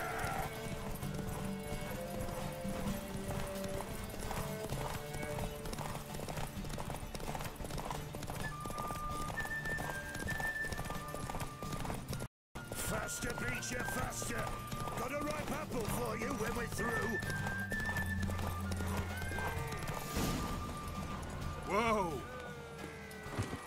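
Horse hooves clip-clopping at a gallop during a race in the video game The Witcher 3, with occasional neighing, steady rhythmic hoofbeats under music and character voices, briefly cut out midway.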